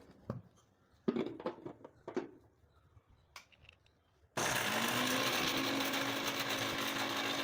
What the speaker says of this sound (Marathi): आता मी लगेच खोबरं बारीक करून घेते